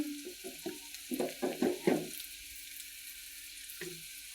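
Ground spices fry quietly in a pan for a Bengali fish and potato curry, a faint steady sizzle under a cluster of louder spatula scrapes and knocks in the first two seconds.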